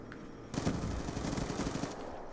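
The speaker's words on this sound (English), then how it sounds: "Good thing I put that sentry gun on too." A sentry gun in Black Ops 2 on Wii U fires a sustained rapid automatic burst. It starts abruptly and rattles on steadily at moderate distance for about two seconds.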